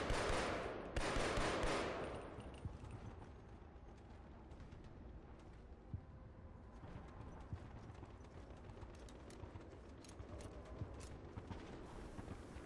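Rapid StA18 pistol fire from Killzone 2 multiplayer, a dense run of crackling shots, loud at first and then settling into a steady busy stream of game gunfire.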